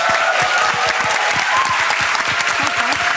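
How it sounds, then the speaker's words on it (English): Dense, loud applause from an audience for a panel at a climate justice event, steady and continuous throughout with no voices over it. "Please give them a round of applause,"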